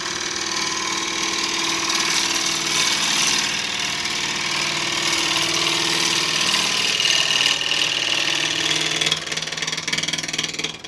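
A woodturning gouge makes a pull cut across spinning Irish red oak on a lathe, giving a loud, continuous scraping whir over the steady hum of the machine, close up with no talk.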